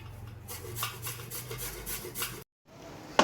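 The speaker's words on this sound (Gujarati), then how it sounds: "હવે ઝીણું ખમણ આવે ને એનાથી આપણે ખમણી લેવાનું." Peeled bottle gourd and carrot finely grated by hand on a kitchen grater, a series of soft, rhythmic rasping strokes close by, then a brief pause and one sharper scrape.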